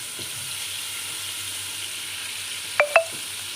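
Onions frying in a pan for white pea pulao give a steady, quiet sizzle, with two brief sharp clinks of a spoon near the end.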